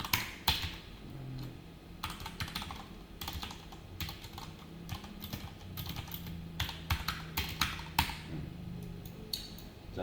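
Typing CSS code on a computer keyboard, a close, uneven run of quick key clicks in bursts with short pauses and occasional louder strikes, no voices.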